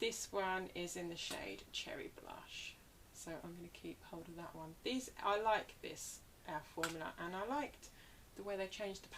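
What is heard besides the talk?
No everyday noise stands out behind the speech.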